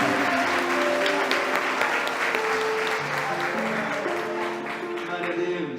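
A church congregation claps steadily and loudly for several seconds, a dense sustained wash of applause with voices mixed in underneath.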